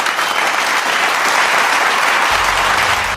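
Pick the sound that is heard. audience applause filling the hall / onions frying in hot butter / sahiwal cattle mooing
audience applause filling the hall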